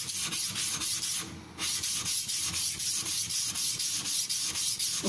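A Tojiro Shirogami nakiri knife, wide-beveled, is worked on a King whetstone, giving steady rhythmic scraping strokes, close and continuous, with a brief break partway.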